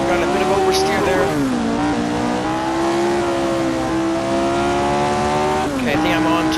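Jim Clark's Formula 1 car from the Assetto Corsa racing game, lapping the 1966 Monza oval, holds a loud, steady high engine whine that dips as it downshifts and then climbs again, with a voice talking over it.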